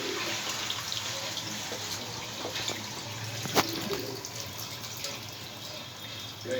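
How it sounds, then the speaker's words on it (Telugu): Tamarind juice poured into a simmering fish curry (ravva fish pulusu), a soft steady liquid trickle and splash, faint and continuous with no talk. "చింతపండు పులుసు వేయాలన్నమాట."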